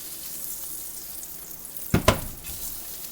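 Rainbow trout fries in butter with a steady close sizzle, broken by two quick loud clacks of a pan or utensil as the fish is turned, then the sizzling carries on.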